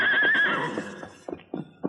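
A horse named Scout whinnies loudly in a long quavering neigh, followed by a few short snorts and hoof-like thumps trailing off.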